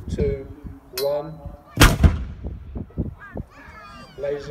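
A British 25-pounder howitzer fires one loud, sharp blast at Fort Nelson during a demonstration, its boom rolling out briefly amid crowd murmur and scattered talk before and after.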